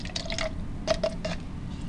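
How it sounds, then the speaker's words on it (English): Dirty paint water poured into a cup, with small drips and splashes of liquid landing in a few quick bursts, close and fairly quiet, with no talk. "I'm going to take my old dirty water here, dump it into my old dirty water cup"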